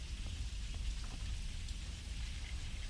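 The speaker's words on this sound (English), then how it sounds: "Okay, the rain has died down a little bit, so that's good." Steady rain falling in the video game Fallout 4, a soft, even patter that stays faint and unbroken throughout with no other sounds.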